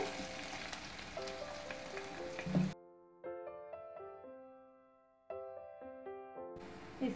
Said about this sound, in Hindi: तेल गरम हो चुका है, इसमें हम हींग डालेंगे।